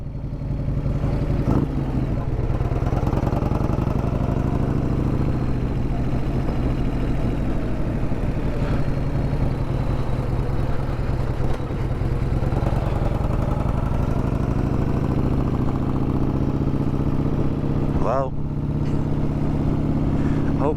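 A 1994 Harley-Davidson Softail Heritage Classic sits idling close by, its engine a steady, loud low rumble with a loping beat held for the whole stretch, with no one talking over it.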